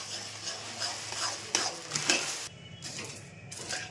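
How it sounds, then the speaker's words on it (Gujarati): Jaggery and puffed rice are stirred together in a pan, giving scraping, rustling strokes with a few sharper clinks against the metal over a soft sizzle. The sound is close and moderately loud, with no talking. "ગોળ અને મમરા મિક્સ"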